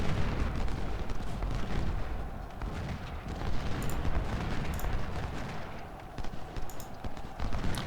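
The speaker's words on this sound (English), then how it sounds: "You fire on those cannons." Civil War cannons and artillery boom in battle at Brock Road in Ultimate General: Civil War, a dense, continuous rumble of distant blasts and crackling volleys with no voices.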